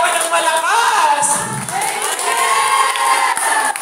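A church congregation shouts and cheers loudly for a few seconds, with many voices whooping together in a dense, sustained roar.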